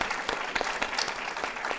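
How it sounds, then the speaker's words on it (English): An audience claps after a talk on global trade and tariffs, a brief, even burst of many hands filling the room without a break. "give a round of applause"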